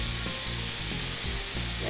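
Shrimp sizzling in a paella pan, a loud continuous frying hiss close up, with rhythmic stirring scrapes breaking through every half second or so.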